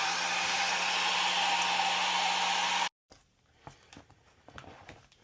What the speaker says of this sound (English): we're going to heat this up with a little bit of a hairdryer